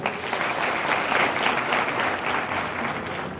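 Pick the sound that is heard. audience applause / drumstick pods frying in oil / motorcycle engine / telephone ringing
audience applause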